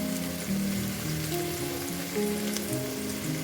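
Nuts fry in a pan with a soft, steady sizzle, fairly quiet and continuous, with faint background hum and a few light clinks.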